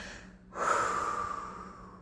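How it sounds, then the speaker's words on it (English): A single cleansing breath blown out through the mouth, a soft close exhale rising quickly and trailing off over about a second and a half, heard alone without talk. "blow all that stale air right out through the mouth."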